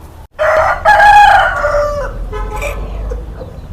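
A country rooster raised organically on a farm gives one loud, close crow, then trails into lower clucking sounds.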